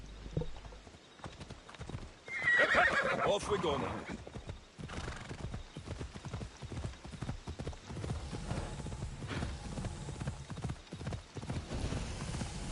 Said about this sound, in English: Yeah, I'm just gonna use the horse now.